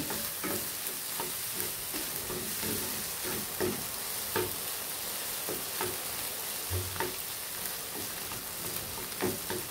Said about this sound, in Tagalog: halo-haloin na natin